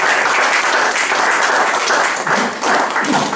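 A church congregation at a French-language sermon breaks into steady, loud applause, a dense continuous crowd clapping that holds throughout.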